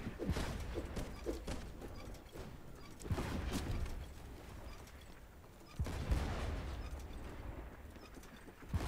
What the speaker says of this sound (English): Someone please fire at their sails with the front swivels